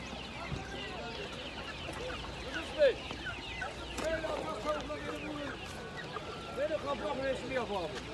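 Hens and a rooster at a poultry market in Taşköprü, Kastamonu keep up a dense run of clucks and squawks, with one sharp louder call, while people talk nearby.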